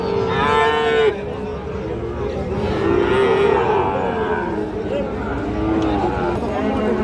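A Sahiwal bull calf lowing at a busy cattle market, several long drawn-out moos close by over a steady crowd murmur, with people talking throughout.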